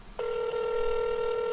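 A steady electronic ringback tone on an outgoing phone call to a Popeyes restaurant begins abruptly and holds as one continuous, clear, fairly loud pitch with no talking.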